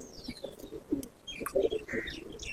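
Pigeons in a loft of Andha and Malwai breeds give soft coos and short chirps, several calls scattered close by over low background rustle, with no talk.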